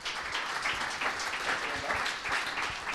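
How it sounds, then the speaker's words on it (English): A crowd at a finance chapter event applauds for incoming speakers, a steady wash of many hands clapping at moderate volume throughout, with no voices standing out. "let's have a big round of applause for Josh Raleigh and Adam Sweet"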